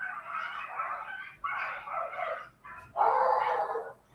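Neighborhood dogs barking and fighting nearby, a run of loud, rough barks and yips in several bursts over a few seconds, with no talk.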